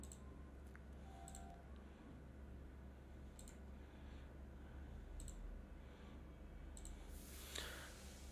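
Sparse, faint mouse clicks, about five of them at uneven intervals, while resetting a Google Sheets time tracker, in a quiet room with a low background hum and no talking.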